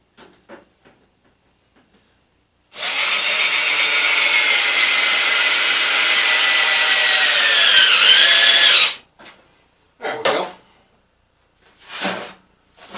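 A battery power drill whines loudly for about six seconds, driving a screw into a metal stovepipe in a workshop. A few short bursts of handling and clanking follow.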